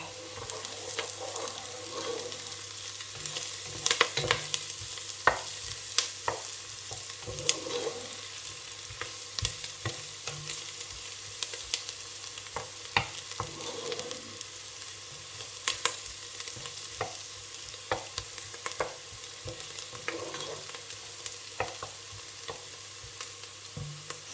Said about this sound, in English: we're going to add the garlic. We'll just give that a stir.